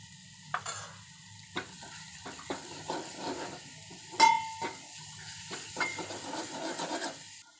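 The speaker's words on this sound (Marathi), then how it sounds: "आपलं वाटण आता परतून घेऊया" Spice paste with turmeric sautéed in a pan, quiet sizzling with irregular spoon scrapes and taps against the metal, one sharper ringing knock midway; close, no speech.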